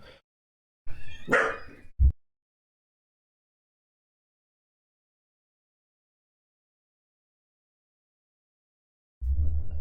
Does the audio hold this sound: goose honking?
no